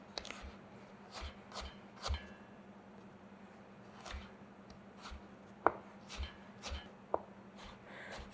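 A chef's knife cuts carrots into thin julienne strips on a cutting board, giving soft, irregular taps and thuds, quiet and close, with no voices.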